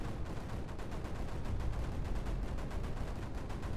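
Cannons in the strategy game Creeper World 4 fire in a dense, continuous barrage of rapid cracking shots that runs steadily at moderate level throughout, with no voices over it.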